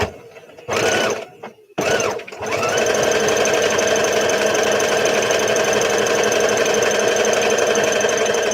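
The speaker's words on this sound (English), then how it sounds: "as I do my top stitching across the" Sewing machine topstitching across fabric on a Simplicity S8855 overalls pattern: two brief starts with short pauses, then a loud, steady, close-up run of rapid needle hammering.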